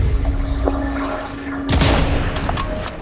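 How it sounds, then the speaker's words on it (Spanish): Loud gunfire in the video game Sniper Elite 5 multiplayer bursts out in a quick volley of sharp shots after a steady electronic hum, followed by a few scattered reports. "que me están volando tiros"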